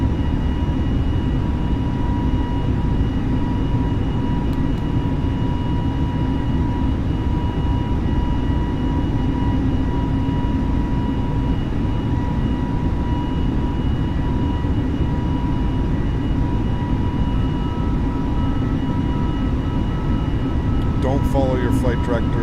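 Airbus A320 airliner in Microsoft Flight Simulator (A32NX mod) rolling for takeoff, a steady loud engine roar with constant tonal whine holding throughout, with a voice talking over it.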